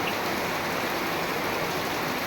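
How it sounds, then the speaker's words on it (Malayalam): Heavy morning rain pours steadily, a dense, continuous hiss of drops drumming on surfaces nearby with no pauses and no voices. "രാവിലെ ഞങ്ങൾക്കിവിടെ നല്ല മഴയാണ്"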